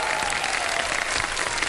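A studio audience claps in dense, steady applause on the Ramadan sehri show Shan e Sehar, a continuous wash of hands with no speech over it.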